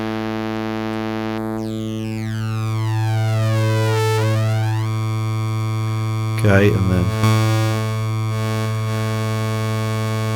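A buzzy wavetable synthesizer drone on a Synthstrom Deluge shifts its timbre as it scans through changing waveforms, with glassy tones gliding up and down; a voice speaks briefly.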